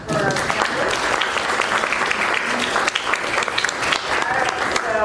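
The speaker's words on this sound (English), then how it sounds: "how about a round of applause for our panelists?" Audience applause for a panel at a senior living resources event, steady clapping throughout with a few voices talking and calling out over it.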